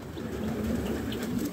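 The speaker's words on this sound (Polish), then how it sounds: "Tu mam kilka gołębi" Racing pigeons coo in a breeding loft, a soft low throaty warble that rolls on steadily and fairly close against a faint background hiss.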